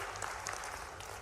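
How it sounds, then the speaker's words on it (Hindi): An audience at a farmers' and employment conference claps in brief, fairly faint applause that sounds a little thin and distant. "ताली कम बज रही"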